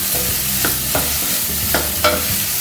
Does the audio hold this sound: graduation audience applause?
no